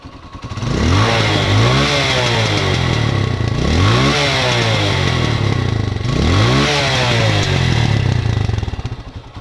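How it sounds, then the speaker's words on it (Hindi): A Hero Honda Karizma R motorcycle revs loudly and close through its rear exhaust, three rising throttle blips over a steady idle rumble, with no talk. "उसकी आवाज़ सुनो बैक एग्जॉस्ट की"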